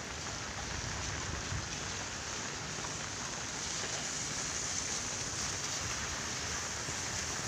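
Steady, even typhoon rain in Komsomolsk-on-Amur patters and hisses without a break, with no voices.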